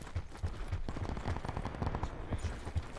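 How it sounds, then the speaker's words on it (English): Video game gunshots crack in a quick, irregular series of sharp reports, fairly faint and somewhat distant, layered over a steady game background. "Got shots to the right."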